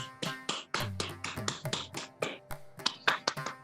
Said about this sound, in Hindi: एक बार जोर ताली वादन से उनका अभिनंदन करें